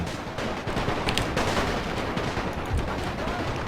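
Massed rifle fire from infantry units in a Napoleon Total War WWI mod battle, a dense, continuous crackle of shots with distant booms and a voice speaking faintly underneath.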